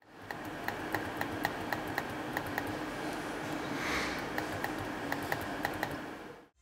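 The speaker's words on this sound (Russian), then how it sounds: "Звук кликов очень тихий." On an ASUS Zenbook Pro 14 laptop, the large touchpad gives a series of quiet, crisp clicks, a dozen or so light taps at a roughly regular pace over faint background hiss, with no talking.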